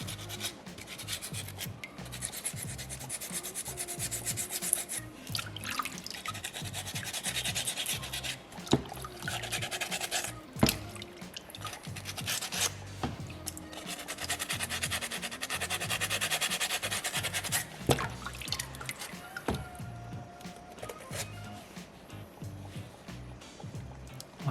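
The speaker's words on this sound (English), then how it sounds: "Just trying to stay on that same track, just to really dig that sandpaper in there." Sandpaper scrapes steadily against a small soapstone polar bear carving, a dense close-up rasping in repeated back-and-forth strokes with a few sharp knocks, continuing without speech.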